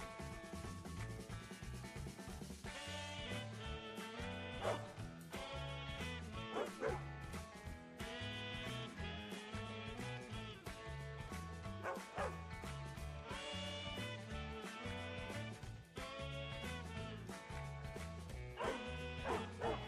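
Giant Airedale Terriers bark repeatedly as they play around a home in San Diego, California, with steady, dense sound filling the whole stretch behind the barks.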